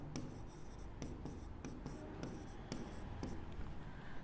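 A hand writing out an equation for a real-numbers maths problem, with steady close scratching and repeated crisp pen taps in an irregular rhythm, quiet and with no voices.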